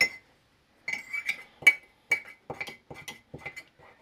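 A spoon mixing icing sugar in a mug, a quick run of bright clinks as metal strikes the ceramic again and again, close and clear.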